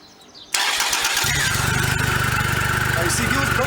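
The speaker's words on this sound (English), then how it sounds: "if you could just hear the sound of the engine" A stock 2015 Triumph Rocket 3 motorcycle engine fires up after a brief quiet moment, then settles into a steady, throaty idle that carries on close by.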